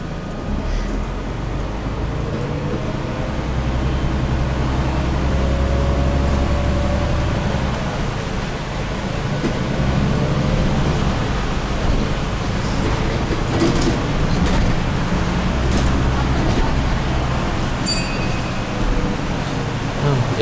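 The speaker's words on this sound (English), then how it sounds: "It's lovely to be in a Bendy bus, innit?" The interior of a bendy articulated bus in Brighton at Christmas time carries a steady engine rumble and road noise with rattles and creaks throughout, continuous and moderately loud, with faint voices in the background.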